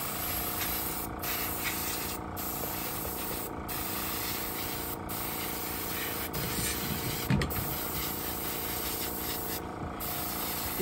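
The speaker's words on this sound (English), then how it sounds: "I'm okay because I'm not spraying very much at a time." Paint sprayer run with the nozzle only slightly open, giving a steady, continuous hiss throughout, with a few faint clicks and brief breaks in the spray.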